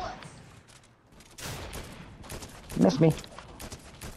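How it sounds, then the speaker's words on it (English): Shotgun fire in the Fortnite video game, a few loud close blasts amid scattered gunfire and game effects, with a voice speaking briefly over the shots. "Is this dude chasing me with a shotgun?"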